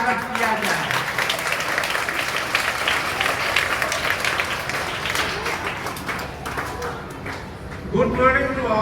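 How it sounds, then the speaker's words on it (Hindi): School audience at an Independence Day celebration applauding steadily and loudly to welcome an English teacher, a dense crowd clapping with some voices, fading out near the end as talk begins. "इनको भव्य तालियों से स्वागत किया जाए।"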